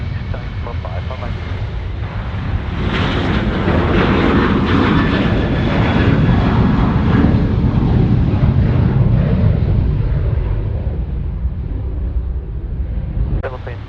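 A Boeing 737-800 takes off from runway 34 right at Sydney Airport, its jet engines building to a loud, broad roar that holds for several seconds and then eases as it departs, with wind buffeting the microphone.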